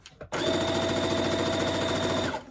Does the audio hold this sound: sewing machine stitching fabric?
yes